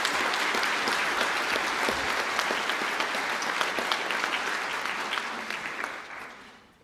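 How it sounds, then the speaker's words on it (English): A graduation ceremony audience applauds a standing class of Higher Diploma in Science in Medical Technology Regulatory Affairs graduates, with dense, sustained clapping that fades out at the end. "Can I please ask the class of the Higher Diploma in Science in Medical Technology Regulatory Affairs to stand for their round of applause"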